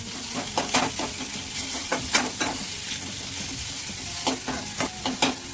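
Onion pieces fry in a pan for wagharela bhath, with a continuous close sizzle broken by repeated scraping stir strokes and no talking.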